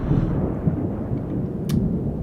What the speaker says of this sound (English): Yes, Paul is scared of thunderstorms.